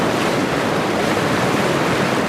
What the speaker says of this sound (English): A rush of water moving faster and higher through Salt Lake County as snow from the high country continues to melt